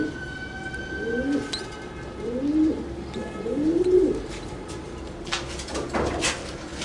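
Egyptian pigeons coo up close, three soft rising, throaty calls in a slow sequence, followed by a few light clicks and rustles near the end.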